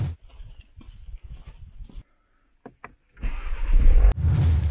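A car starts up before heading off to the car wash: light clatter and handling noises, a short quiet gap, then the engine catches and runs loud and steady nearby, with a brief revving surge.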